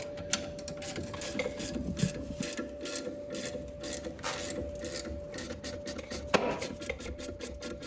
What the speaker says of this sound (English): to show you how easy this thing is to use, I'm gonna use a 3/8 ratchet